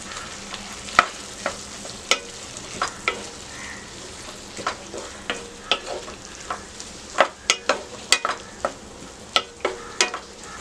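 Onion with yellow and red capsicum stir-frying in a pan, a steady close sizzle punctuated by frequent sharp scrapes and clinks of a spatula against the pan, with no talking.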